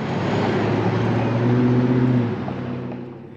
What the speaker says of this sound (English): People, a lot of cars.